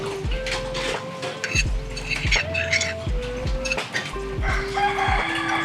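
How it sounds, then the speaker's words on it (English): A rooster crows repeatedly somewhere nearby in a rural kitchen setting on Koh Samui, Thailand, its calls rising and falling several times, mixed with clucking hens, clinking dishes and people talking. "I hear a rooster."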